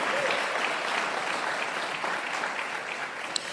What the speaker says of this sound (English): So give yourself the biggest and boldest round of applause you got in your purse right now.